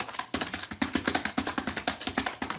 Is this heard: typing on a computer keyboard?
yes